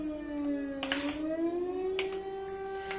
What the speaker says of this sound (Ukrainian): А тут повітряна тривога.